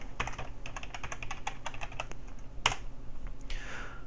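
A password being typed on a computer keyboard, with quick, close key clicks in an irregular run, one sharper keystroke partway through, then a short soft swish.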